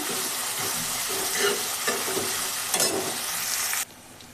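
Onions frying in a pan for a cabbage sabzi, cooked until lightly golden. A steady close sizzle runs with a few stirring scrapes. It cuts off abruptly near the end.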